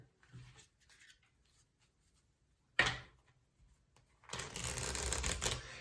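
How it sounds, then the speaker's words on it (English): Tarot cards are shuffled by hand in a quiet room: a short riffle burst, then a longer, louder stretch of continuous shuffling noise near the end, with faint handling sounds before. "I'm shuffling the tarot cards right now"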